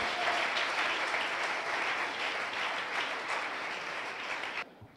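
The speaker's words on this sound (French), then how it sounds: "I will give the Lord a big clap of it." A church congregation claps together during a French-language thanksgiving service, a dense, steady wash of applause that holds evenly for several seconds before stopping abruptly near the end.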